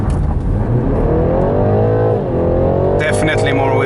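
Recorded from inside, a BMW G20 330e accelerates hard, its engine and drive note climbing steadily in pitch, loud and continuous throughout.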